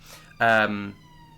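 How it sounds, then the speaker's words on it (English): An emergency vehicle siren on a main street, stuck in traffic, wails in one loud burst, close and harsh, over a low steady background hum. "there's a siren on the main street out there, and it must be stuck in traffic"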